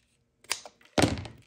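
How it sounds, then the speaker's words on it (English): Leather straps for a Mexican double loop half-skirt knife scabbard being cut close up: a soft thunk, then a louder, longer rasping slice. "So I'm going to cut a little bit more."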